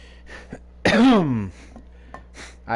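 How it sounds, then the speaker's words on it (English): A person gives a few short coughs, then one loud, harsh throat-clearing, followed by more small coughs and noises, close and with no talk. "I apologize for a bit of coughing and snottiness."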